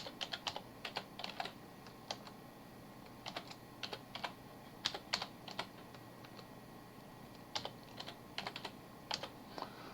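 Quiet, close typing on a computer keyboard, with irregular clusters of crisp key clicks separated by brief pauses and no talking.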